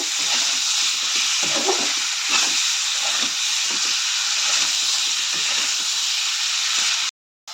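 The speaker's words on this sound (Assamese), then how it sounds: "এনেকৈয়ে অকণমান দেৰি লৰাই থাকিব আৰু মাংসখিনি যিমানেই লৰাব সিমানেই খাবলৈ ভাল হ'ব" Meat for a curry sizzles and fries steadily in a pan while being stirred, a continuous close hiss with small scraping bursts, ending in a brief cutout.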